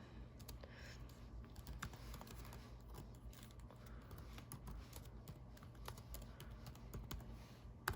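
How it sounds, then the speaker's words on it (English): Typing on a computer keyboard makes quick, irregular clicking keystrokes in soft bursts against a low, quiet room hum, close and faint. "I'm just gonna type that little message in there"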